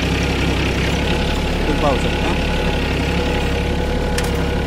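A Mahindra OJA 2130 tractor's diesel engine idles close by with a steady, throbbing low rumble throughout, while someone talks over it.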